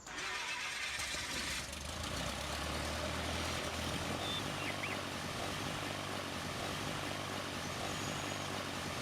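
A simulated AT-602 crop duster's aircraft engine starts up in a Farming Simulator mod, a steady loud propeller drone and rumble that settles into a continuous run with no talking.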